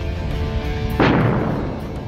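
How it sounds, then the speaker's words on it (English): A solar storm rendered as an explosion, one sudden heavy boom that bursts out over an ambient bed and rolls into a fading rumble, loud and alone with no voices. "An explosion of the sun so awesome"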